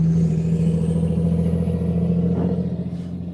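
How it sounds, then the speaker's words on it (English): A loud, heavy truck towing a trailer rumbles past with a deep droning engine, the roar easing off as it moves away. "here comes a traveler with their trailer. It's a loud ass truck."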